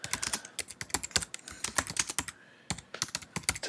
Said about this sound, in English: I'm just going to type out some words here